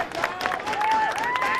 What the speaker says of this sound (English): You'll be able to hear the applause as Alec Bush leads out the Oakdale Workers